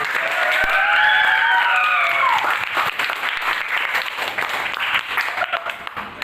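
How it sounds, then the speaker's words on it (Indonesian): High-school students in a tenth-grade Islamic religious education class applaud together in the classroom, a dense, steady patter of clapping with some cheerful voices rising over it early on, then slowly thinning toward the end. "Ya, tepuk tangan."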